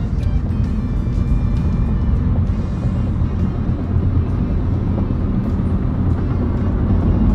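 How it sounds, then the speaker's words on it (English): Steady, loud broadband road rumble inside a car on the way to Southampton, continuous low drone with tyre and engine noise throughout and no talk. "We're in the car on the way to Southampton."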